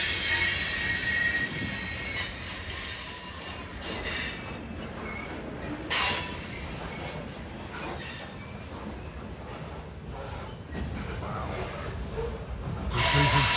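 A freight train rolls past on the old B&O line along the Potomac valley, its wheels squealing loudly and continuously against the rails with a steady rumble underneath, swelling in brief surges throughout.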